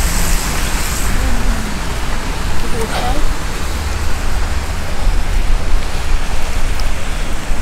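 Rain falling on a street in Stratford with traffic passing, a dense loud hiss with road rumble throughout while people talk over it.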